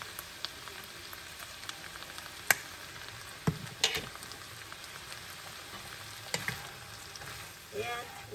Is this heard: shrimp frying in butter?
yes